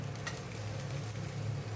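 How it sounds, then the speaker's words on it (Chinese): Lobster sizzles steadily in a hot pan with garlic, a continuous close frying hiss with no break, cooked as the base for a lobster glass-noodle pot. "那龙虾下去煎一下"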